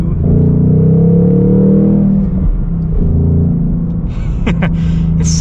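Ford Mustang Bullitt engine and exhaust giving a deep, steady low rumble heard from inside the car, loud and continuous, easing slightly toward the end with a few light cabin clicks.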